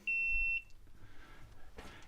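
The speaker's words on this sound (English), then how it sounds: "that beep that you're hearing right there, that's my helmet cam that just ran out of battery" A helmet-mounted camera gives a single clear, high-pitched low-battery beep lasting about half a second, near and alone, followed by faint rustling and a soft brush of movement.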